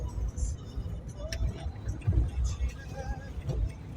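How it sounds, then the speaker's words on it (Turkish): Buses, trucks and lorries run at full throttle along the Ordu–Trabzon road near Çarşamba, Samsun, making a continuous low rumble with swelling pass-by surges. Faint clinks sit on top, and a voice is partly heard. "Evet otobüsler, kamyonlar, tırlar tam gaz gidiyorlar"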